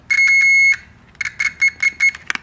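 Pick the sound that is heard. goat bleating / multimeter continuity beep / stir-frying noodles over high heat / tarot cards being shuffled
multimeter continuity beep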